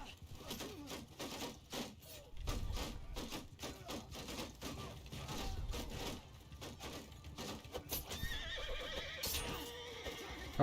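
A horse whinnies repeatedly amid game combat noise in a modded video game, with clip-clop hooves and busy clatter throughout, loud and close.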